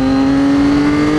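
A Triumph Street Triple and a Ducati 959 Panigale idle loudly in Bath on a Saturday morning, one steady engine note droning close by with a faint rising edge of revving and no talk.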